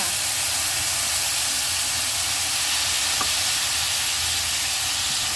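Meatballs and mixed vegetables stir-frying in a hot pan, giving a steady, loud sizzling hiss that holds even throughout, with no talk.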